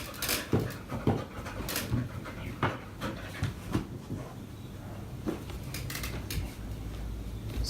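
A dog pants in quick, rhythmic breaths close by, with a few soft whimpers and light clinks of dishes or cutlery mixed in across the background.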